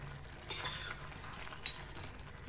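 Mixed vegetable curry being stirred in a pan, a soft low simmering sizzle with two brief scraping stirs of a spoon against the pan, quiet and close.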